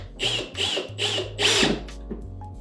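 Ratcheting clicks from tightening a bolt on a climbing wall hold during route setting, a few close mechanical bursts with short pauses between them, no talking.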